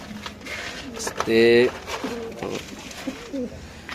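White Lakka pigeons coo once, a clear, close, resonant call lasting under half a second, while people talk nearby throughout.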